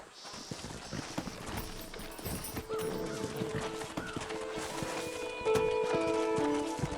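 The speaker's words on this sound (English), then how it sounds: "Horses are over here!" Horses clip-clopping in the video game Red Dead Redemption 2, a steady hoof rhythm under a dense game soundscape, with sustained tones building toward the end.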